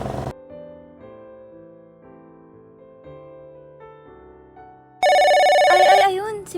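Telephone ringing as a mother calls in: a quiet melodic ringtone plays for several seconds, then a much louder, brighter ringing tone bursts in and dominates the last stretch.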